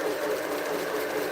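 A sewing machine runs steadily at a constant, fairly loud whir, a quilting setup with no talk over it.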